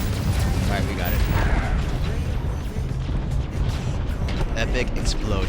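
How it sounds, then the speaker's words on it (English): A booming explosion during a spaceship battle in Starfield, a loud rumbling blast with crackling debris that fills the scene beneath a player's excited talk. "Epic explosion."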